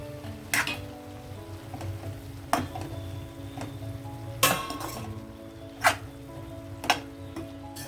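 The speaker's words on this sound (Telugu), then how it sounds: "ఒకసారి కలుపుదాం మనం" Vegetables with biryani masala and chili powder are stirred in a sizzling pan for a cauliflower biryani. A spoon scrapes and clinks against the pan in irregular knocks over steady frying.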